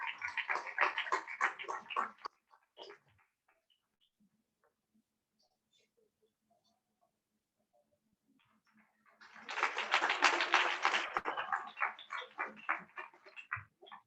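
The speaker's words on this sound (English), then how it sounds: "Give them a huge round of applause once again." An audience applauds at an International Women's Day celebration in two bursts of dense clapping. The first fades after about two seconds, and after a quiet gap a louder, fuller round swells and tapers off.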